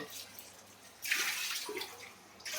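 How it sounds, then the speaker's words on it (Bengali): Running water splashes in short bursts as chunks of bottle gourd are rinsed in a home kitchen, fairly close and quiet, with no talk. "লাউগুলো ভালো করে ধুয়ে নিই"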